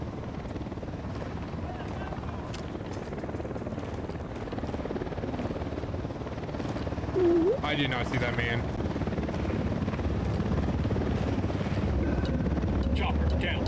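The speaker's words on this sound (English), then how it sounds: "We got a chopper coming in." Helicopter flying overhead in the video game Ghost Recon Wildlands, a loud continuous rotor thrum that swells slightly as it nears, with players talking over it and a short sharp effect midway.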